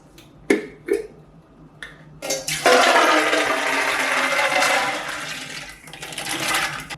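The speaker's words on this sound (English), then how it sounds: "I'm going to add the beans and the bean water to the pot" Soaked black beans and their soaking water pour into a pot for a wool-dyeing batch, a couple of short knocks first, then a loud, steady splashing gush that fades and trails off.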